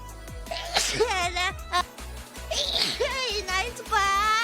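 A Japanese streamer sneezes twice, loud and close, each one a sharp voiced burst, with background music playing quietly underneath.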